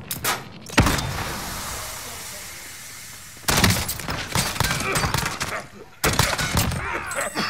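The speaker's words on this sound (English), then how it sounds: "Someone's shooting from downstairs." Gunfire in a Call of Duty Warzone Plunder match, coming in loud, sharp bursts with pauses between them, mixed with glass-breaking crashes, while players talk over it.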